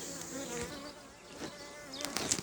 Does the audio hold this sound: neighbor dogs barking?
no